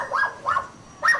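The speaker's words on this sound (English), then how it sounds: "As the dog barks in the background" Three short dog barks ring out in quick succession at moderate distance, each a sharp yelping bark with a pause before the last, in an otherwise quiet room.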